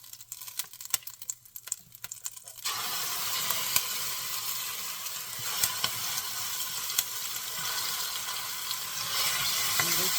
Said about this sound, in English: Let it fry for a bit and add some curry leaves